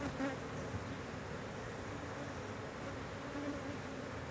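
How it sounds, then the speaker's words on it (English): Honeybees swarm around an exposed nest with honeycomb on the outside of an abandoned building in a park, giving a steady, dense buzzing that holds evenly throughout at close to moderate distance. "here's a good example of the honeybees right now"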